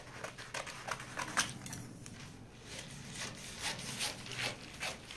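Scissors cut fabric for a churidar sleeve with faint, rhythmic snipping and rasping strokes over a low background hum. The sound is quiet and close.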